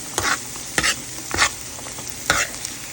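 Grapes frying in a pan with a steady sizzle while being stirred, with four distinct scraping strokes at a slow, uneven rhythm and no talking.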